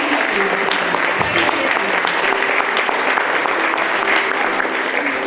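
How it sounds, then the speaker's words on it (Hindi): An audience at a staff promotion party in Pachmarhi applauds steadily, dense overlapping clapping holding at an even level throughout, close and full. "बच्चों के लिए भी ताली बजाओ"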